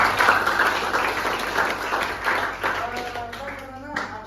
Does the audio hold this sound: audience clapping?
yes